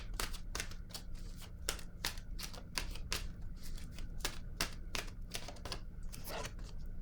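Oracle cards shuffled by hand before a new card is drawn, giving a steady run of quick, crisp riffling clicks, close and fairly quiet, with no talking.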